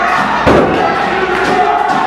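A wrestling crowd at a UCW-Zero show roars behind Sierra Rose, a steady wash of cheering and shouting with a thud of impact near the start, while commentary runs over it.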